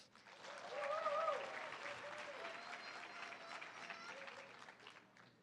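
Steady audience applause at a nursing school graduation ceremony, dense clapping that swells early then holds evenly, with a few faint voices mixed into the crowd noise.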